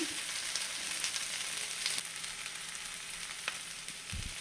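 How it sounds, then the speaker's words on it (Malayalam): Chopped okra and onion fry steadily in a pan, giving a continuous close sizzle with faint scraping stirs and a soft clunk near the end. "അരിഞ്ഞു വെച്ചിരിക്കുന്ന വെണ്ടയ്ക്കയും സവാളയും എല്ലാം കൂടി ഇതിലേക്ക് ചേർത്ത് കൊടുക്കാം"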